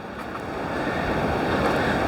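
Steady rushing water of the Bells Rapids on the Swan River in the Australian bush near Perth, a continuous broadband roar with some wind noise on the microphone.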